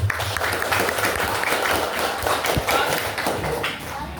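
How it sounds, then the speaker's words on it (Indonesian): Classroom applause for a student group at a primary school religious studies lesson, a dense patter of many small hands clapping steadily for about four seconds, close and fairly loud, easing slightly at the end. "Berikan tepuk tangan untuk kelompok 1."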